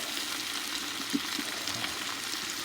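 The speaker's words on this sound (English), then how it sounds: "it helps out with the sauteing of the onions" Onions sautéing in a pan for Southern-style collard greens, a steady broadband sizzle running throughout with a few soft stirring knocks, close and alone with no talk.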